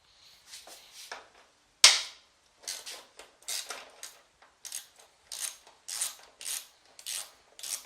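A ratchet clicks in quick bursts while undoing 10mm bolts on a 1999 Kawasaki ZX6R G2 Ninja motorcycle, one sharp crack followed by repeated short runs of close, crisp pawl clicking.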